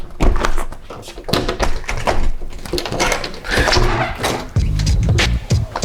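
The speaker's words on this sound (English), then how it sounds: "Oh, this fucking stupid door." A stubborn door at a rented house in Dallas is shoved and forced open, giving loud repeated thunks, bangs and scraping rattles close by that run continuously through the stretch.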